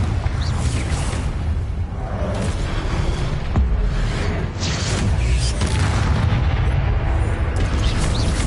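Confringo fire spell blasts in the Hogwarts Legacy video game, heavy booming explosions and whooshing bursts layered into a loud, continuous roar of combat.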